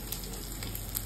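Shrimp coated in turmeric frying in hot oil in a kadai, giving a steady, close sizzle with faint crackles throughout and no talking.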